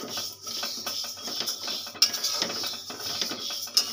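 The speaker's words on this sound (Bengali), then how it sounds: "আমার কড়াটা গরম হয়ে গেছে, আমি এবার ডালটা ভেজে নেব।" Dal fries in a hot kadai with bay leaves, dry chillies and whole cumin while a metal spatula scrapes and stirs, giving a crackling sizzle with repeated scraping strokes and two sharp clinks, close and with no voices.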